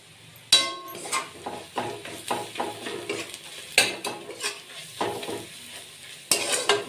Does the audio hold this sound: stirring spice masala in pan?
yes